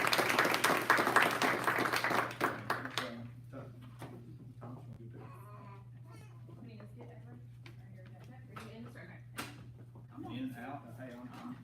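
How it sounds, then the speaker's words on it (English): An audience at a school board meeting gives a short round of applause, loud for about three seconds before dying away, followed by quieter murmuring voices, a low steady hum and a few scattered sounds. "let's give them one more big round of applause."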